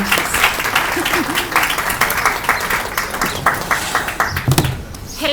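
Audience clapping at an industry talk, a dense burst of applause with distinct individual claps that carries on steadily and then tapers off near the end.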